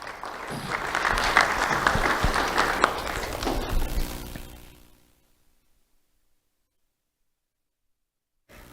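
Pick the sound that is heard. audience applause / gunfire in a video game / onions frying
audience applause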